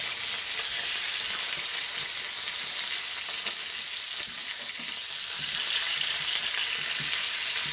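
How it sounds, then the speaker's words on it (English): Loud, steady sizzling of chicken thighs frying in a hot pan under a splatter screen, a dense crackling hiss that holds throughout with no voices. "Now those are loud, sizzling."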